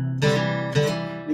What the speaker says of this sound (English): if you hit the fourth and the third, it would sound like this.